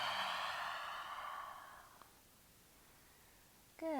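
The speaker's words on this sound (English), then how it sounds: "Big exhale." A long, deep exhale during a hatha yoga stretching session, a soft breathy rush that fades over about two seconds, followed by near quiet and the start of another breath.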